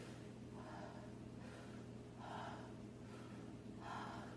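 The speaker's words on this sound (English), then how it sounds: "And I can breathe in and out too." A singer breathes in and out slowly during a vocal exercise, three soft airy breaths spaced about a second and a half apart, close but quiet over a faint steady hum.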